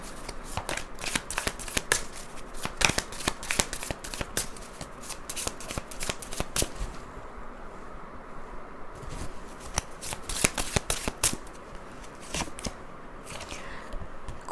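A deck of tarot cards is shuffled close by in rapid bursts of crisp riffling and flicking, pausing briefly midway before resuming, with no talk.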